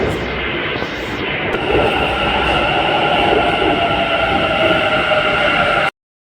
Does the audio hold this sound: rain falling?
no